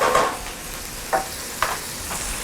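Stuffed mushroom stems sizzling in a pan, with a low steady fry hiss broken by three or four brief scraping clatters as the stems are turned, close and without talk.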